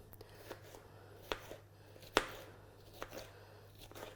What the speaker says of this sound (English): chop the pepper in half and remove the seeds